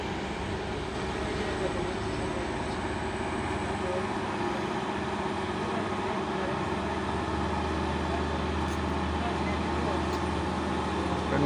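A heavy tronton truck rolls past on an Indonesian road with a constant low engine drone and tire roar amid other traffic, steady and fairly close throughout.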